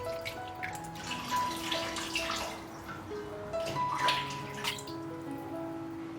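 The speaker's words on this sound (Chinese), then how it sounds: "可以多冲洗2遍，把皮下的油脂都洗干净" Fish skin is rinsed under running water at a sink, a soft continuous trickle and splash with a few louder splashes and drips, fairly close and quiet, with no voices.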